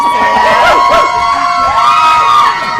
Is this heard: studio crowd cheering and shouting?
yes